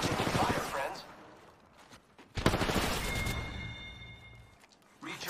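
Bursts of gunfire in a squad-based shooter video game, sharp volleys broken by pauses against a busy in-game mix, fairly quiet overall.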